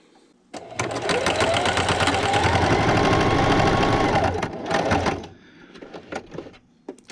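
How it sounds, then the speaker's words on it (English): Sewing machine running a straight stitch around a cast iron pan liner, a loud continuous rapid whirring chatter for about four and a half seconds, then stopping, followed by scattered clicks and handling. "I'm going to sew all the way around, back stitching at the beginning and the end"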